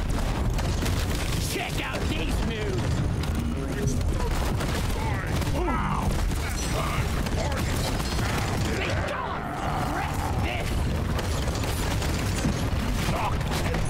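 Autocannon fire from the Deep Rock Galactic video game, aimed at a swarm of Praetorians, pounds on steadily for the whole stretch as a dense, loud, continuous barrage with mechanical clatter mixed in.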